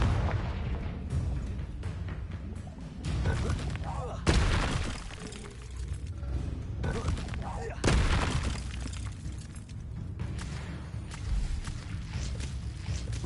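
Confringo fire spell blasts in a Hogwarts wizarding video game, a few sharp explosive bursts that shatter and boom amid a continuous dense layer of other spell effects and game noise.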